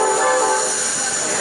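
A freight or passenger train pulling away from a station, a loud continuous rumble and rolling roar filling the moment with steady tonal hum, no voices.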